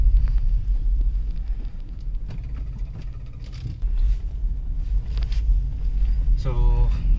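A 2020 MG Hector 1.5 turbocharged petrol smart hybrid, heard from inside while driving at higher speed, gives a steady low engine and road rumble with faint cabin noises and a brief electronic chime near the end.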